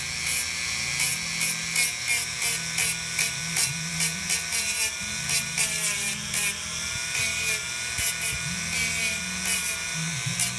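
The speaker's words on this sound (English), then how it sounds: "And the way I work that is I just get this Dremel tool here," A Dremel rotary tool grinding wood from a Mosin Nagant rifle stock while re-inletting the butt plate, giving a steady high-pitched whine with rhythmic pulses as the bit bites in and lifts off, close and continuous.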